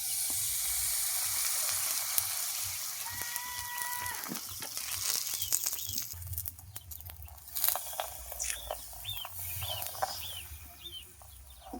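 A ball of flour dough sizzles and crackles in lightly oiled hot pan, soft frying hiss with scattered pops and a few faint background chirps.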